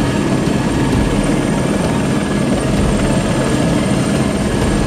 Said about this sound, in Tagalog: So ito yung helicopter.